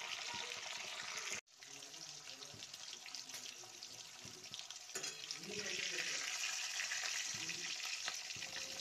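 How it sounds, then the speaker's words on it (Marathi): Green chillies frying in a little oil in a kadhai give a steady, continuous sizzle, broken by a brief stir partway through, with no talk over it. "एका कढईमध्ये मी तेल टाकलं आहे थोडं, आणि त्यामध्ये मिरची टाकून तळून घेऊया आपण मिरची."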